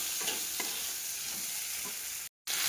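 Chickpeas and pumpkin stir-fried in a spice paste, with a steady close sizzle and frying hiss running throughout and a brief break near the end.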